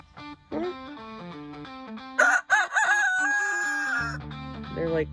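Adolescent roosters crow loudly nearby, several long strained calls overlapping one after another, with a warbling, slightly rough tone.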